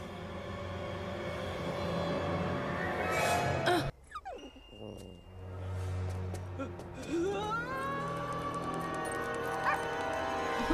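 Dog barks and whimpers in a scene from Supernatural season 4 episode "Yellow Fever", mixed with a tense score, a sharp dropout, then a high whine and yelps near the end, with people reacting over it.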